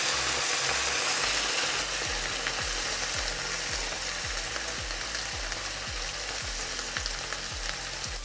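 Vegetables simmering hard in a pan with dry wine, a dense steady sizzle and bubbling filling the whole stretch, with low rhythmic thumps recurring beneath it and no talking.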